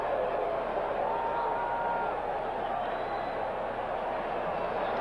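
A dull, steady roar from a stadium crowd at a 1989 NFL game between the Miami Dolphins and the Kansas City Chiefs hangs in the background, constant and fairly faint with no clear peaks.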